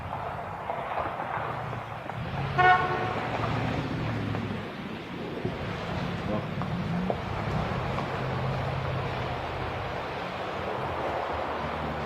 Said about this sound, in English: here comes a car right now